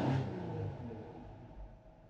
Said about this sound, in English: I'm going to give it a few revs again.